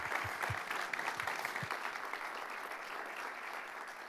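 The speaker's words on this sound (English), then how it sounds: "Let's give Sara a big round of applause for dropping some knowledge." An audience at an entrepreneurship talk applauds a speaker, a fairly soft, steady patter of clapping that gradually thins out over a few seconds.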